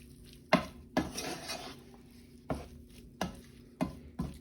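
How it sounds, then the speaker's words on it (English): A spatula scrapes and clanks against a pan while shrimp fried rice is mixed, giving several sharp metallic knocks spaced irregularly over a soft sizzle, close and fairly quiet, with no talking. "I'm just going to start mixing everything together"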